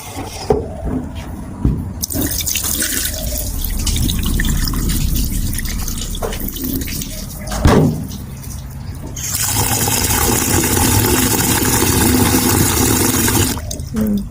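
Sticky rice is washed in water, with close sloshing, dripping and pouring sounds, a gushing stretch in the middle and occasional knocks of the container.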